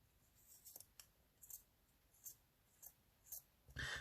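A few crisp, separate snips of scissors trimming paper, spaced irregularly and fairly close, in a quiet room, ending with a louder rustle.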